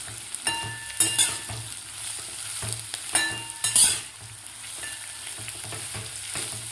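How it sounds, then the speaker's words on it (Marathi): Cut kantola (spiny gourd) sautéed in hot oil over medium heat, a steady sizzle broken by repeated loud scraping and clanking of a spatula against the pan in irregular bursts, with no talking. "आता आपल्याला 3 ते 4 मिनिट व्यवस्थित परतून घ्यायचे आहेत. करटोले थोडेसे असे सॉफ्ट होईपर्यंत."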